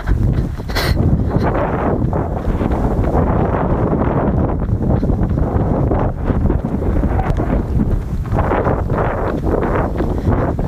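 Wind blowing on the microphone of a Thieye T5 action camera outdoors, a loud, steady rumbling buffet that runs continuously with gusty surges.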